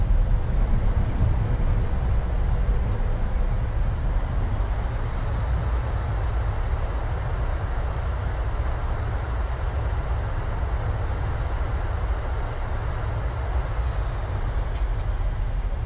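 Roar of a Boeing 737-600 on the runway after landing, thrust reversers engaged, a loud broad rumble holding steady throughout with no talk over it.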